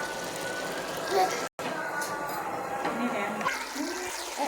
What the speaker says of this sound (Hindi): अब हम इसमें हाफ गिलास पानी का डालेंगे